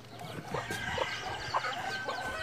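Chickens clucking in a backyard coop while they drink water, a string of soft, short clucks and chirps repeating every half second or so, fairly close, with no voices.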